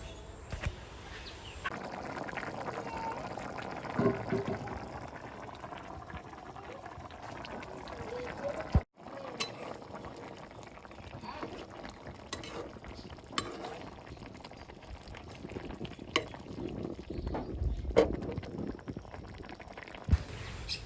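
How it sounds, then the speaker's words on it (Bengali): Washed fish dropped into a curry simmering on a gas stove, with a steady bubbling and sizzling bed, occasional clinks of utensils and a sharp knock midway, close and moderately loud. "ঝটপট মাছগুলো ধুয়ে এনে তরকারির ভিতরে দিয়ে দিলাম"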